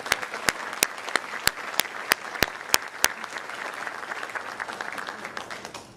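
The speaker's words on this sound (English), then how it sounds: "please join me in congratulating our recipients this evening with a round of applause" An audience at a high school academic recognition ceremony applauds award recipients: steady indoor clapping with several sharp, evenly spaced loud claps standing out near the microphone, then fading toward the end.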